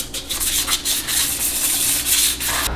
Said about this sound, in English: And we're gonna lightly sand.